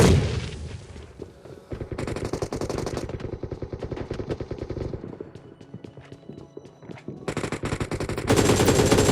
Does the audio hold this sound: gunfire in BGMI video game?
yes